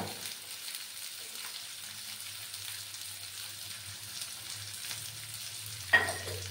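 Chopped chilli, ginger, capsicum and tomato frying in a pan: a soft, continuous sizzle with light stirring, close but quiet, ending in a single sharp clink of a utensil.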